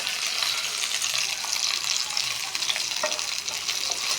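Chicken meat frying in a pan, a dense continuous hiss of hot oil heard up close and fairly loud, with faint scattered stirring touches and no voices.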